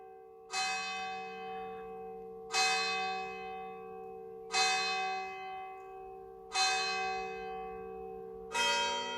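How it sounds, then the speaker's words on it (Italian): Church bell of San Fedele tolling five slow, evenly spaced strokes, each ringing out with a long decaying hum, clear and fairly close with no talking. "che suoni i suoi rintocchi"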